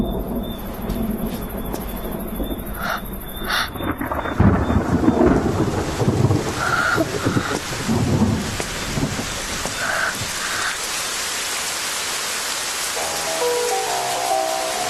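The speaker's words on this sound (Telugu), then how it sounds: "వర్షం పడింది, వర్షం కూడా పడుద్ది." Rain falls steadily as a continuous broadband hiss, with low rumbles of thunder rolling in and out across the stretch and no voices present.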